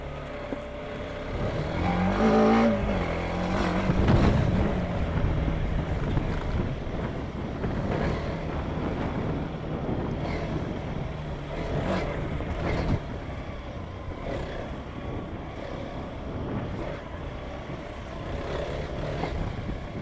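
TVS Apache RTX motorcycle riding in second gear over a rough, bumpy road, a steady engine drone with wind rush and rattling jolts throughout, louder in the first few seconds.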